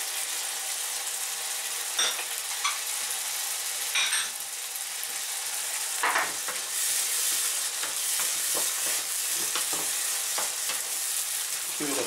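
Spring onions and chili stir-fry in a hot wok for a Chinese beans with ground pork dish, with a steady sizzle and occasional scrapes and clacks of a spatula over twelve seconds.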